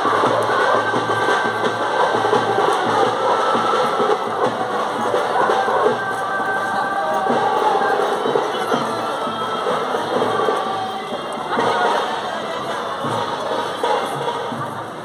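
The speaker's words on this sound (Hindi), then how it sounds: "ये देखिए लोगों की भीड़।" Large crowd gathered in a busy market street during a political march, a dense, continuous wash of many voices with scattered shouts and cheers, loud and close throughout.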